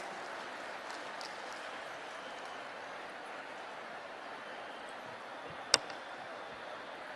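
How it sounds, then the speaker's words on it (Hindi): A crowd applauds steadily at a government event in Madhya Pradesh with the Chief Minister present, welcoming a tribal women's group leader to the stage; the wash of clapping sounds distant and fairly quiet, with one sharp knock near the end. "आइए हम सबकी जोरदार तालियों के बीच कलियाबाई कुशवाहा मंच पर आमंत्रित हैं"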